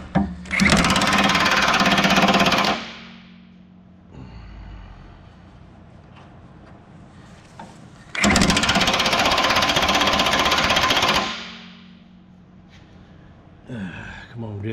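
Pins being driven out of a Galion heavy equipment machine with a pounding pneumatic hammer: two long, loud rattling bursts separated by quieter stretches, with people talking.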